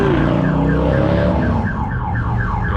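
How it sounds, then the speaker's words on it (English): A van's car alarm blares nearby in a Harley-Davidson dealership lot, a loud electronic siren sweeping up and down in rapid repeating cycles over the hum of the event. "Andrew set the alarm off"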